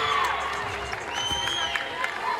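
Team bench applauding and cheering at a Maryland vs Michigan women's college basketball game as a player checks out: short burst of clapping and whoops amid arena crowd noise, with a commentator talking over it.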